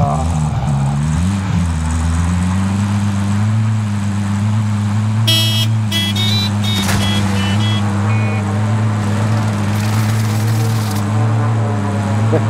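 A car engine drones steadily at close range while driving in Call of Duty: Modern Warfare, a constant loud hum with a few brief higher tonal blips mid-way.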